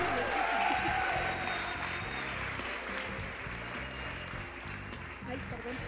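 Audience applause at a women's leadership forum in Mexico, steady clapping from a crowd filling the room, while a voice speaks over it.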